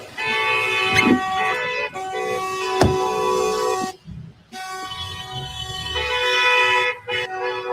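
Horns honk repeatedly from all sides during a street protest confronting immigration agents, sustained blaring tones overlapping in long bursts with brief gaps, loud and close amid traffic.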